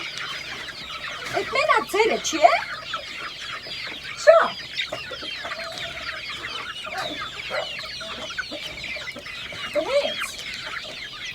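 Several chickens cluck and squawk nearby in a farmyard, irregular bursts of calls with one louder squawk, while a person talks over them.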